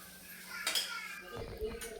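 Fenugreek leaves fry in a pan while a utensil scrapes and clinks against the metal in two brief bursts over a soft sizzle, fairly quiet overall.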